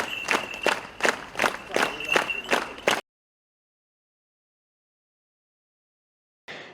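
Fellow artists applaud at a funeral, a crowd clapping in steady rhythmic bursts for about three seconds, then silence before a brief return of sound at the end.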